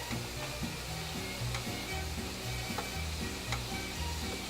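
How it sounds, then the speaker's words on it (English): Tomato sauce meets Mexican albondigas meatballs cooking with vegetables in a hot pan, giving a steady, dense sizzle with faint stirring clicks throughout, close and continuous with no talking. "For now I am going to add tomato sauce to the albondigas to finish them cooking with the vegetables."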